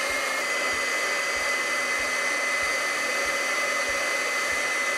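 A heat tool blows steadily and loudly, drying and heat-setting powder on a handmade paper card, a constant whooshing hum with no talk.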